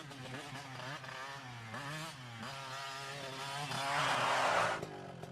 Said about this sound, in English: Motorcycle coming now.